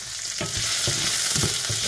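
Chicken fries in a pan with a loud, steady sizzle, broken by several scraping stirs at roughly regular intervals, close up with no talking.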